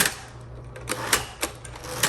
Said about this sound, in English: on these electric typewriters, is having, once you do your tabs, you almost have to hit the return a couple of times